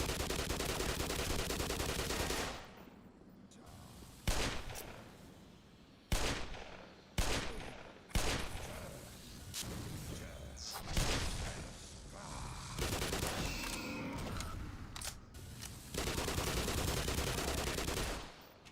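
Bursts of gunfire from the video game Black Mesa, loud and close, coming in repeated sharp volleys separated by short gaps over a continuous game background.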